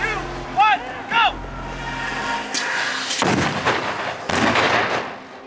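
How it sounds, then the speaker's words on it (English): Two stunt explosions on a film set give heavy booms with a long, rumbling blast tail, following a few short sharp tones and a brief lull. "There are two explosions that go off in this shot."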